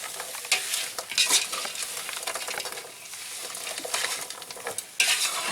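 Frozen green beans cooking in a pan, giving a loud, close, steady sizzle as their water hits the hot surface, with a few clinks and stirring scrapes along the way.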